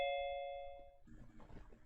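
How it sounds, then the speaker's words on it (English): A two-tone electronic doorbell chime rings once at the start during an online Zoom game session, clear and ringing before it fades out, then a faint murmur of background noise follows. "But didn't y'all hear like a doorbell? Ding ding."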